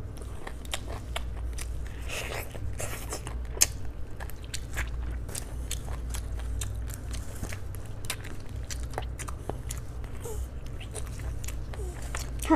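Big bites of chicken during a Chinese mukbang: repeated crunchy bites and wet chewing close to the mic over a constant low background hum.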